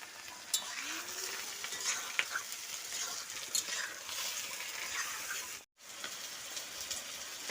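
Chicken meat frying in a pan with bay leaves gives a soft, steady sizzle with light crackles and occasional stirring clinks, fairly quiet, with a brief dropout near the end.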